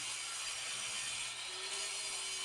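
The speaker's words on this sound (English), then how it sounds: "Use the angle grinder to cut along the line you marked." An angle grinder fitted with a concrete blade cuts a line through tarmac in a driveway, giving a loud, continuous harsh grinding whine that stays steady throughout at close range.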